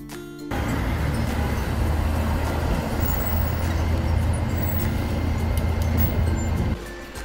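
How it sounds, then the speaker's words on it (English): A garbage truck rumbles steadily past on a neighborhood street, a broad, continuous engine and road roar that holds at an even level for several seconds before dropping away. "Here's a garbage truck."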